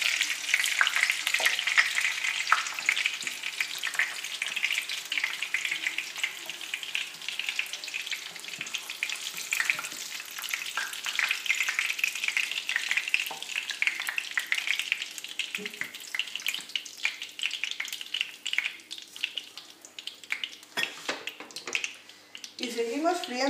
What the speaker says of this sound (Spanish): Y seguimos friendo el resto de la coliflor